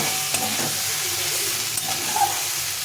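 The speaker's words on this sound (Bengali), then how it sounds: "আলু আর সয়াবিনটা এটা দিয়ে দিলাম, দিয়ে এটাকে ভালো করে আবার কষিয়ে নিতে হবে।" Potato and soybean stir-fried in a pan for a yogurt soybean dish, giving a steady close sizzle with soft stirring scrapes and no talk.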